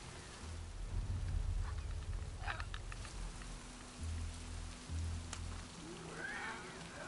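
Steady rain with wind in The Last of Us Part II, a dense hiss of falling drops over low gusting rumble, with a few faint knocks and clicks on top.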